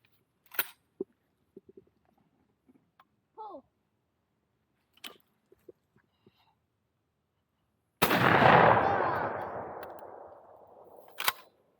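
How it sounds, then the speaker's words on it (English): One loud shotgun blast at clay targets booms and decays over a few seconds, preceded by scattered quiet voices and small clicks, with another sharp report at the very end. "That's my first time shooting."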